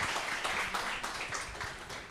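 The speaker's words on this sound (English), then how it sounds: "Can we have a huge round of applause?" Audience at a corporate grand finale event applauds with dense, sustained clapping, moderately loud and continuous throughout, with no talking over it.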